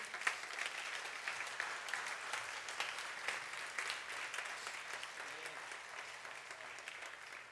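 A church congregation applauds during a service: continuous, fairly faint clapping from many people, steady and even throughout with no voices on top.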